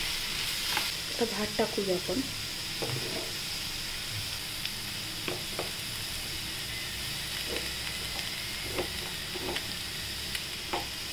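Beetroot rice with lemon juice is stir-fried in a pan, giving a continuous hissing sizzle under repeated scraping and knocking of the spatula, busier at the start and spaced out later.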